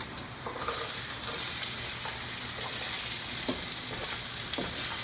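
Garlic and onions frying in a pan as aromatics for chili, a steady loud sizzle with a few stirring scrapes and knocks, close up and continuous.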